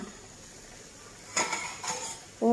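A pot of curry with jackfruit seeds stirred with a utensil, a few clinks and scrapes against the metal pot over a quiet background, with a louder knock at the end.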